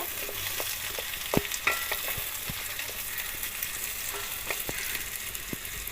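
Potato pieces sizzle in hot oil in a pan, a continuous close crackle with intermittent knocks and scrapes as a utensil stirs and lifts them.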